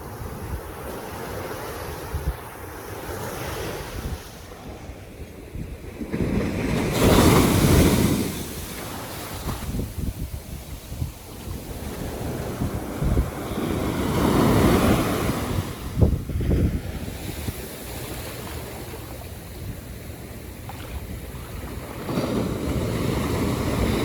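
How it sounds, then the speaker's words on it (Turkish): Atlantic Ocean waves break and wash ashore on an American beach early in the morning, a steady roar of surf swelling and fading in several surges, with wind buffeting the microphone throughout. "Su çok güzel gerçekten. Ama çok dalga var."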